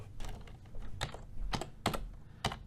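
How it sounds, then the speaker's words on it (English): Keys clacking on a computer keyboard during a coding session, several distinct sharp taps spaced irregularly, up close over a quiet room. "So start typing B. It should already appear."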